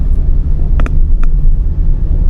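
A 2018 Suzuki Ertiga GL with a manual gearbox drones from inside the cabin as it accelerates, a heavy, steady low rumble with a couple of brief clicks, and no one speaking.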